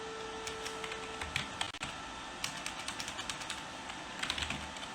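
Keystrokes clatter on a computer keyboard during HTML coding, with a steady run of quick, light clicks that form short bursts and pauses over a faint background hum. No voices are heard.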